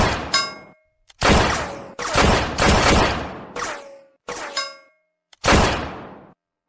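Gunshots ring out in bursts, each hit clanging loudly off a metal frying pan with a bright ringing tail. Several loud, close impacts come in rapid clusters separated by short silences.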